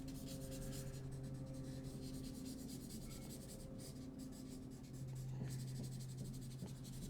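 A pencil sketching a cat on paper, a quiet continuous scratchy rubbing of graphite with faint irregular strokes under a low steady hum.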